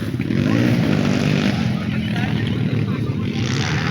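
Dirt bike engine at an autocross race, a steady loud droning motor sound that holds for the whole stretch, with voices faintly present in the background.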